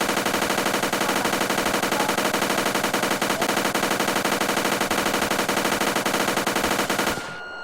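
Rapid, continuous automatic gunfire from an Iron Man mod weapon in GTA San Andreas, a loud, dense stream of evenly spaced shots lasting about seven seconds before stopping abruptly into a faint ringing tail.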